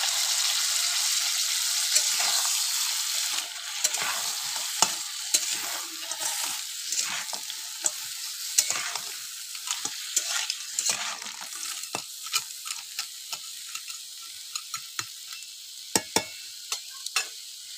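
Crab cooking in hot oil in a pan, a loud sustained sizzle with frequent sharp crackles and stirring scrapes, close up and continuous with no talking.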